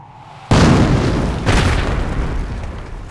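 Company of Heroes mortar barrage: two loud, close artillery explosions a second apart, each a sharp boom rolling off into a long rumbling decay.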